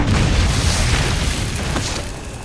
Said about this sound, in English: I believe I accidentally stepped in front of your grenade launcher, ma'am.